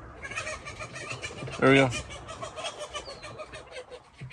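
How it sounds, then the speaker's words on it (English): Several roosters crammed together in one cage crow and squawk in agitation, a loud harsh burst standing out briefly over steady background noise while a person talks nearby. "Got a lot of roosters in one cage, so they get agitated."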